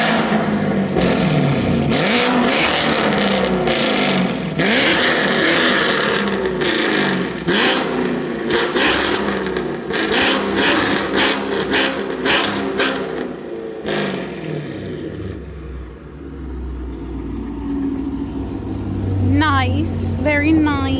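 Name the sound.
Chevrolet Camaro engine revving, recorded outside the car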